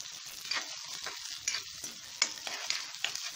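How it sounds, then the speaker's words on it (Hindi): Onion, garlic and ginger sauté in a pan over a medium flame, a soft close sizzle punctuated by quick spatula scrapes and stirring taps every half second or so. "लहसुन भी डाल देंगे और अदरक भी डाल देंगे तीनों चीज़ों को मीडियम फ्लेम पे हल्के हल्के भून लेंगे"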